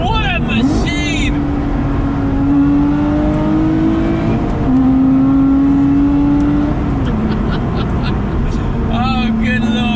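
A supercharged Lotus Exige 410 engine revs with a high, droning whine that climbs and dips repeatedly, loud and close throughout.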